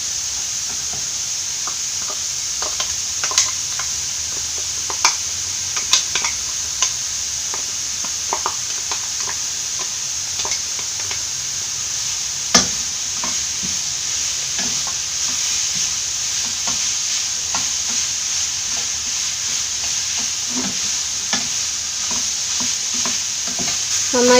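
Crushed coconut stirred into Kerala-style papaya thoran in a hot pan, a soft steady sizzle with repeated scraping and clinking strokes of the spoon, close up and without talk.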